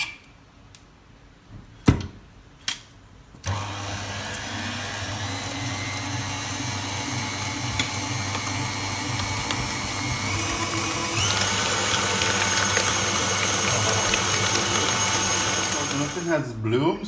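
A few sharp clicks, then an electric mixer whips cream cheese, whirring continuously with a steady mechanical hum that grows slightly louder partway through and runs to the end.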